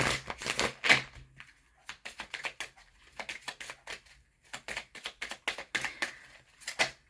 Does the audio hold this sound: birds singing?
no